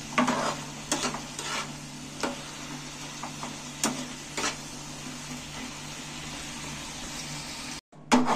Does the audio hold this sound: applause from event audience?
no